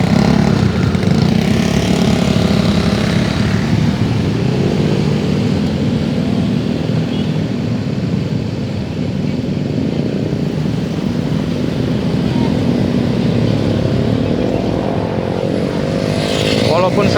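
A motorcycle engine drones steadily and loudly on a busy road crowded with holiday travellers, with wind rush throughout and someone talking over it.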